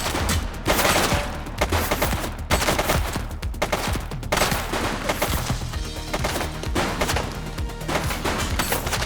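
Gunfire in the police game The Precinct: repeated bursts of rapid automatic shots with sharp cracks and wooden impacts, loud and close, coming in waves for the whole stretch without any talking.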